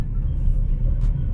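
Traffic on a busy city road in Palembang, Indonesia, makes a steady low engine rumble of passing cars. It is brief and continuous, with no voices.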